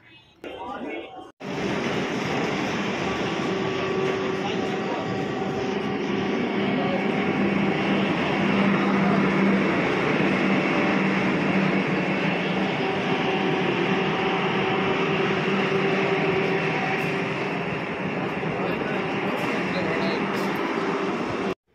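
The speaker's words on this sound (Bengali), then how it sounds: "এটা হচ্ছে আমাদের ট্রেন, মেমু রেকের ট্রেন।" A MEMU electric rake train on the Sealdah–Siuri route rumbles steadily at close range for about twenty seconds after a brief quieter start, with a broad continuous roar and faint tonal hum from the motors.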